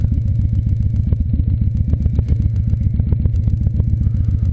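Harley bagger motorcycles with windshields ride past up close, their loud, deep engine rumble pulsing steadily throughout with a rough, rhythmic beat and no voices.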